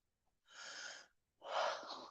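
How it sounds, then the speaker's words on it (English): A cat snoring somewhere in a room: two long, raspy breaths about a second apart, the second louder and rougher, with no talking. "he's back there snoring. Snoring his little brains out."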